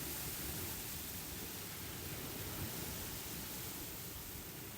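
Steady, unbroken sea surf washes over a beach, a dense, even roar with no distinct breaks or voices.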